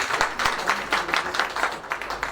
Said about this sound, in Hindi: एक बार हृदय से तालियों के साथ हम अभिवादन करें